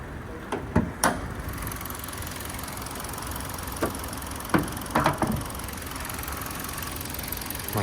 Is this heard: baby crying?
no